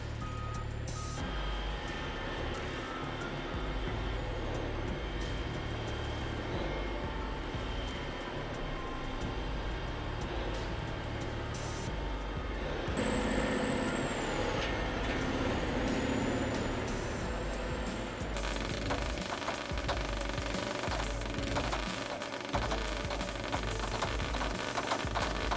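A Russian L1850 heavy earthmoving machine from the 1980s, with a 33 cubic meter bucket, runs its engine as a loud, steady roar that fills the whole stretch, swelling slightly partway through, with no voices.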